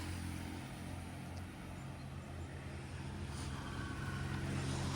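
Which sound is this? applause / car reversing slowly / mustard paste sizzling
car reversing slowly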